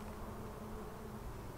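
Honey bees hum at an open hive during a queen-rearing brood check, a faint, even drone with no other sound over it.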